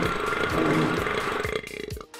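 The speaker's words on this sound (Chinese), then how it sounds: "我们来场打嗝比赛，" A loud, drawn-out burp from a burping contest, rumbling continuously for about two seconds and trailing off into a few smaller gurgles at the end.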